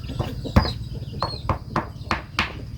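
Chickens cluck around a rural home yard, a series of short, sharp clucks at an uneven rhythm, fairly close, with faint background noise.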